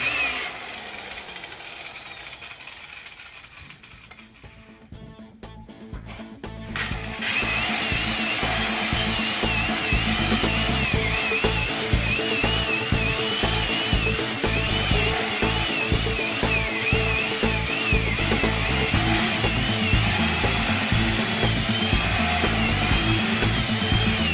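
A single-action polisher works over sanding marks on refinished car paint during the final finishing pass, its RPM adjusted to keep heat down. Quiet handling at first gives way to a loud, continuous whirring motor from about seven seconds onward.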